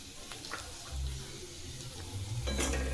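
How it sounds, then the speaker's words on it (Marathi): Shredded cabbage cooking with red chilli, homemade masala, roasted peanut powder and coriander is stirred in a pan: scraping strokes against the metal, with soft sizzling underneath and a louder scrape near the end. "आता हे व्यवस्थित मिक्स करू।"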